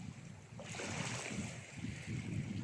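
Sea waves wash in a steady, soft roar, a continuous rushing surf with a gentle swell partway through, heard alone without any voices.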